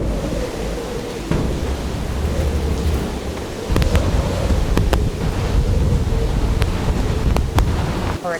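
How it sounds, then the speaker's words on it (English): Hurricane Maria, a Category 4 storm striking Puerto Rico, produces a continuous loud roar of wind and rushing surf, punctuated by sharp cracking bursts, with no voices. "Hurricane Maria, a Category 4 storm, winds of at least 155 miles"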